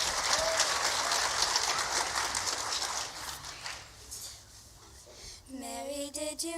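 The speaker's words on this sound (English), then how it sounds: "Let's give them a round of applause." Audience applause at a junior high school ukulele concert, dense and steady for about four seconds, then fading as a singing voice begins over quiet ukulele.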